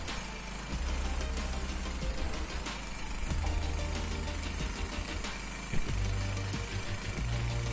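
A small mini rice huller for hulling paddy runs with a steady mechanical drone and low rumble, punctuated by faint clicks and knocks, with no talking over it.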